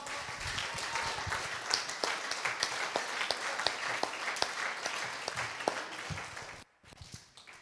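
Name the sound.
congregation applauding in church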